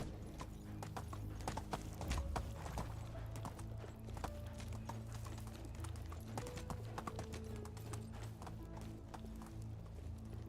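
Horse hooves gallop in a steady, continuous clip-clop rhythm in the Medieval Dynasty game, close and even throughout, with a brief whinny and faint background tones.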